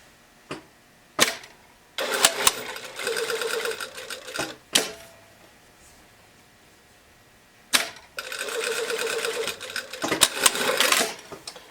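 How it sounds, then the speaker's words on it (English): Domestic sewing machine running in two sustained bursts as it stitches back over a small fabric corner of a sleeve lining to reinforce it, with a few sharp clicks and handling knocks in between, close and moderately loud. "I'm just gonna go back and sew that little corner again just to reinforce it"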